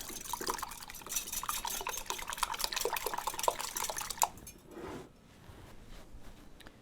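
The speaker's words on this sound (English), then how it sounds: "And I'm going to lightly whisk those together." Eggs lightly whisked together in a bowl, a quick steady patter of wet beating for about four seconds, then a brief clink and quiet.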